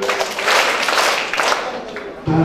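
Children clap their hands together in a group during a Tamil action song about clapping when happy; the dense clatter is fairly loud and steady, with voices mixed in.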